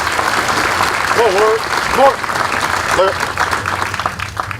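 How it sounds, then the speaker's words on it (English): A crowd at a military training camp graduation ceremony applauds awardees, a loud, continuous spread of clapping with several voices calling and talking over it. "Ladies and gentlemen, let's give our awardees a round of applause"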